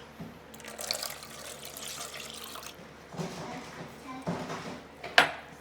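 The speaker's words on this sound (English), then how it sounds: "we're going to put our milk in there, 2 cups of milk" Milk pours into a bowl for au gratin potatoes. The liquid splashes in a few soft bursts, ending with a sharp clink of a container close by.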